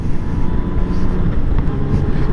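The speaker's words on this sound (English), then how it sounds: "But it's windy." Hard wind blows outdoors on a mild December day, a loud, continuous low roar with rumbling buffets against the microphone and no talk.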